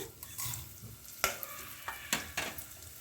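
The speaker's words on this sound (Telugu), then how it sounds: "ఇప్పుడు పోపు దినుసులు వేసుకుందాం" Tempering spices hit hot oil in a pan for jowar rava khichdi, already holding roasted peanuts and cashews, crackling and sizzling in short sharp pops while being stirred.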